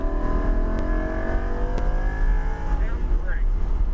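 A Lamborghini Huracan Evo on a race track accelerates with a loud, steady engine wail that holds its pitch and then slowly winds down, close and continuous.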